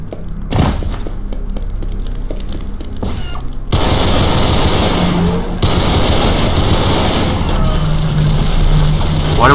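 Rapid automatic gunfire and heavy blasts from the video game Brutal Doom, loud and continuous after a few scattered shots, forming a dense barrage with booming impacts throughout.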